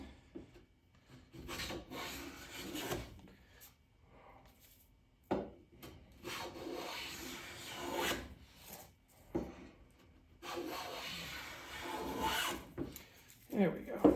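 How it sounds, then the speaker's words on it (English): A Lie-Nielsen No. 4 bench plane taking thin, full-width shavings off Red Heart hardwood, with several separate rasping strokes at close range in a quiet room. "we're getting very thin, full width shaving here"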